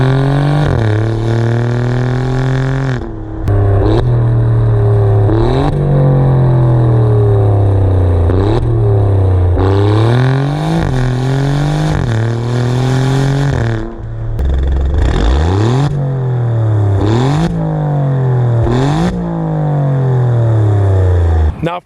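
Alfa Romeo Giulia Quadrifoglio accelerating hard and close, the engine note climbing and dropping through a rapid series of gear shifts, loud and continuous with a brief lift partway through.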